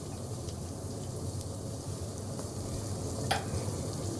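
Crushed ginger and garlic sizzle steadily in a pan of browned frying onions, a close, continuous crackle with faint stirring scrapes.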